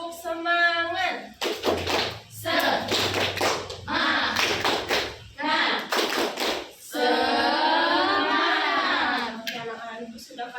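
A class of schoolchildren performs a rhythmic clapping chant, with bursts of loud claps and chanted voices that alternate and come close together, followed by a long stretch of children's sustained group chanting.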